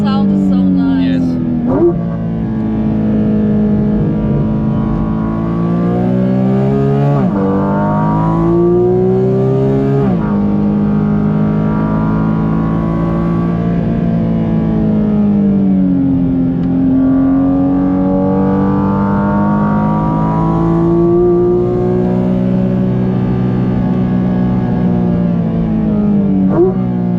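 A Porsche GT4 RS engine on the Nürburgring howls loudly from inside the car, revs climbing and dropping through repeated gear changes across the lap.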